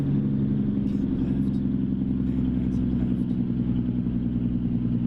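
A 1980s Kenworth K100E truck with an Allison HT750DRD automatic transmission labours through an attempted downshift, its engine a steady low rumbling drone that holds heavy and even throughout from inside the cab.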